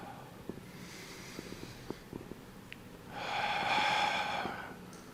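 A slow, steady exhale during a gentle qigong breathing exercise, a soft breathy rush that swells near the end, close and fairly quiet over faint background clicks.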